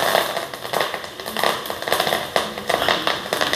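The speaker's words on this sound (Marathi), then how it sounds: "आता त्यात आपण कढीपत्ता टाकून घेऊ" Curry leaves crackle and spit in hot oil already holding cumin and mustard seeds, tempering for egg bhurji; a dense, steady sizzle broken by sharp popping bursts, close and loud, with no talk.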